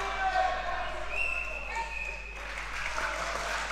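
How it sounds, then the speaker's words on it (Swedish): The crowd cheers and roars on two fighters in the last seconds of the final round of an MMA bout, a sustained arena din beneath a commentator's voice. "Publiken manar på."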